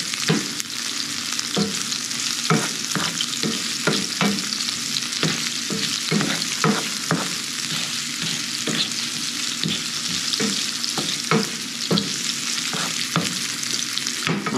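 Philly cheesesteak filling sizzles steadily in a hot pan while a utensil stirs and scrapes it in frequent short strokes, close up, with no voices.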